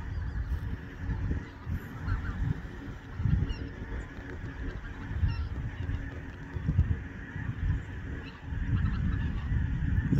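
A large flock of geese honks continuously as the birds take off over a river, a dense, steady chorus of overlapping calls heard from a moderate distance.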